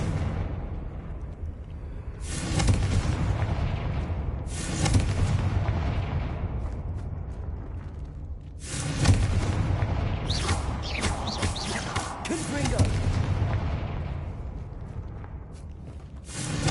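Explosive spell blasts from the Hogwarts Legacy video game, a series of heavy booms roughly every two to three seconds, each with a rumbling low-end tail over a steady game background, no speech.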